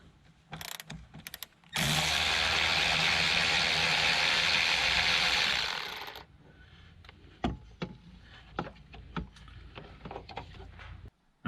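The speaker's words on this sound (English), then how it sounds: "Now we're going to unbolt the hold down. You'll need a 12mm socket for that." A ratchet with a 12mm socket clicks steadily for several seconds as a car battery hold-down is unbolted, followed by scattered light mechanical knocks and handling sounds, close by.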